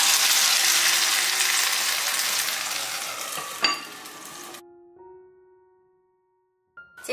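Tofu skin and sliced meat stir-fried in a Hakka clay pot, a loud steady sizzle with stirring that fades over several seconds, then cuts to near silence with a faint tone before a brief clatter at the end.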